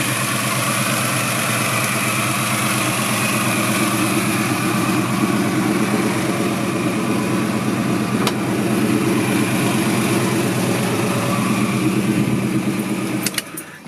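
A 1970 Plymouth Duster's V8 idles through a loud exhaust, a steady deep burbling rumble that holds close and even for the whole stretch before cutting off abruptly at the end.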